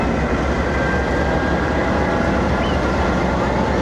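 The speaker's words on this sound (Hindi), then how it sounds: "जिस तरफ से ट्रेन आई थी उसी तरफ को रवाना हो रही है" Express passenger train pulling out of Kasur Junction, a steady loud rumble of wheels and engine close by, continuous broadband roar with no pauses and no voices.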